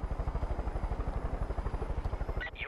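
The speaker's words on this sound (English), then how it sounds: "It turns out having a helicopter helps out a lot." Helicopter in the video game Far Cry 5, its rotor beating in a steady, fast, loud chop throughout, with a brief change in the engine noise near the end.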